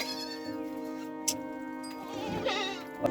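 Sick goats and a young kid on a farm in Dodamarg bleat in several drawn-out, quavering calls, one after another, nearby and fairly clear over a quiet background.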